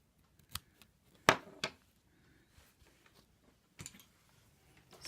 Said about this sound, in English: I'm going to just cut that off because I don't want any raw edges showing.